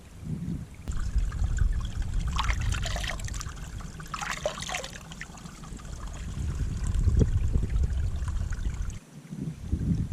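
Clear spring water trickling straight out of rock below Bullstones on Bleaklow moorland, a steady close gurgle and splash with a brief outdoor wind rumble, no talking.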